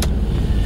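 Inside a car while driving: a steady low engine and road rumble fills the cabin, close and even, after a brief sharp sound at the start.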